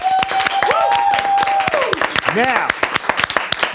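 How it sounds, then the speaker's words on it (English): Scattered audience clapping, loose and uneven, runs beneath voices talking and calling out, with a tone-like whistle or cry sliding through the middle. "Give yourselves another round of applause."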